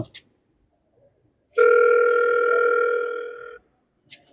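A telephone tone sounds as a single steady two-pitch hum lasting about two seconds, loud and close, framed by brief faint clicks and near silence.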